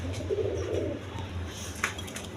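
Pigeons, including a pair of Rajgolla pigeons, coo at a breeding farm, soft low throaty calls in the foreground over a steady low hum, with a brief sharper chirp near the end.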